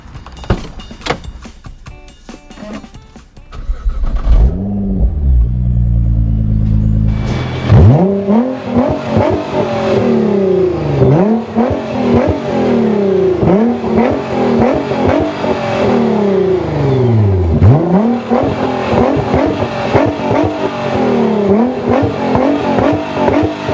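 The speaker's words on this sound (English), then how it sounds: "you have to hear at how loud the car is right now" A loud Nissan GT-R engine with a disconnected muffler revs hard with a raw, blatty exhaust roar, rising and falling repeatedly up close, after a brief whir and a low rumble.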